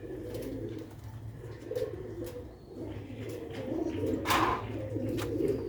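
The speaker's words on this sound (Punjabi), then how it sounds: "ਇਹ ਦੇਖੋ ਮਾਸ਼ਾਅੱਲਾ ਸਿਆਲਕੋਟੀ ਬਟੇਰੇ ਕਬੂਤਰ।" Sialkoti Bater pigeons coo in low, repeated throaty calls, close by and steady, with a brief brighter chirp or rustle near the end.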